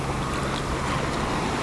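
Sea surf at a resort beach in Alanya, heard as a continuous broadband wash of water with wind noise on the microphone, fairly steady and close, with no talking.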